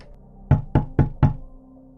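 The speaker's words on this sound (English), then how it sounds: "The pounding on the window, followed by eerie silence, only heightened my fear." Four heavy, evenly spaced thumps pound on a window in quick succession, loud and close, followed by near silence.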